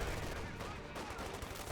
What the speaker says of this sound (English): Teller mine went down there.